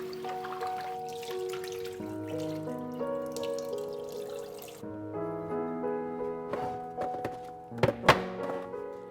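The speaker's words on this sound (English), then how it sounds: "Rinse and drain the rice 2 to 3 times to get rid of the excess starch." Basmati rice is rinsed with water in a small saucepan: running tap water, swishing and dripping, with a few hollow thunks and a cluster of knocks near the end.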